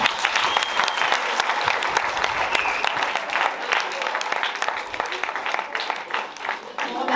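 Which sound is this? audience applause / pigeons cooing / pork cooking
audience applause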